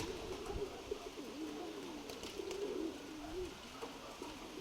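A female pigeon in a loft coos softly in repeated low, rolling phrases, faint and somewhat distant, with no talking.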